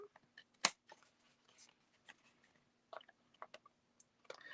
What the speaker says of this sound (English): I lost my big scissors, my big cheap scissors. There they are. I'll cut this down.